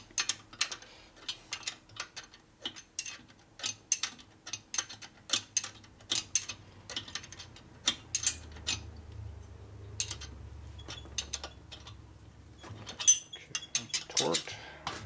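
Torque wrench tightening exhaust manifold bolts on a 1961 Harley-Davidson Sportster XLCH, a rapid series of sharp metallic ratchet clicks in uneven bursts, close, with faint low background hum.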